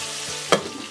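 Taro stolons being fried and stirred into a spice mix in a pan, a low sizzle with one sharp scrape of the stir midway, brief and close.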